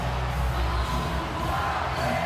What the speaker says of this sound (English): The entire crowd is off their feet and they are hyped up for Jon Moxley